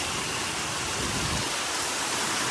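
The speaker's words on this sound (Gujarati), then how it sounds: "લાય વરસાદ છે ભાઈ" Heavy rain driven by strong wind during a hailstorm in Kheralu, a dense steady roar of broadband noise filling the whole stretch, loud and unbroken with no voices.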